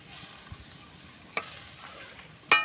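Fish curry stirred in a pan just after water is poured in, a faint low simmer with a few soft spoon knocks and a sharper clink at the end.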